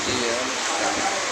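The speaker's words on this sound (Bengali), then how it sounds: "অলরেডি বৃষ্টি রে, এই অবস্থা দেখছেন বৃষ্টির।" Heavy rain pours down in a steady, dense broadband wash, with wind, and is heard close and continuous throughout.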